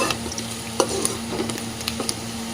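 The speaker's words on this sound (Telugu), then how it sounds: "ఆనియన్స్ అయితే మంచిగా ఫ్రై అవ్వాలి ఫ్రెండ్స్" Onions fry in hot oil with coriander in a pan for a chicken masala, making a continuous near sizzle broken by a few soft stirring clicks.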